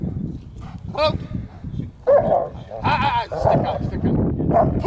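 A dog barks and yips repeatedly during protection training at a kennel, loud and close, mixed with a handler's shouted commands and other people talking.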